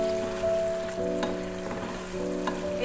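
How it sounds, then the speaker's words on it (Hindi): Two medium onions, finely chopped, sizzle steadily in hot oil over a medium flame while cooking for chicken yakhni pulao, a constant close frying hiss with a few crackles and stirring clicks and no talk. "इनको हल्का सा हम गोल्डन ब्राउन होने तक पकाएंगे।"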